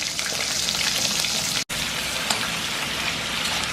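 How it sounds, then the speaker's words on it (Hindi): About a kilogram of chicken frying in hot cooking oil, a dense, steady crackling sizzle filling the whole stretch, close and loud, with a brief dropout partway through. "ऐसे चिकन को तकरीबन 5 मिनट्स आप लोगों ने फ्राई करना है।"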